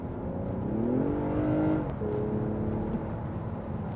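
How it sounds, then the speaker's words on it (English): A Toyota Avalon V6 with an 8-speed automatic pulls under throttle from inside the car, its engine note rising steadily and then dropping sharply at an abrupt gear change before carrying on in a lower, steady drone. "as you get into it, the gear changes become needlessly abrupt"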